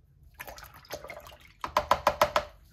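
Water scooped from a bucket for painting, a few soft splashes and trickles followed by a quick run of six sharp, evenly spaced drips close up.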